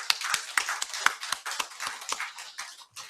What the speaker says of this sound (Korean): 우리 어린이들 위해서 한 박수 한번 쳐주십니다